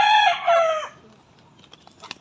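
A rooster crows loudly and close by in a brief burst. Softer clucks and faint farmyard noise follow.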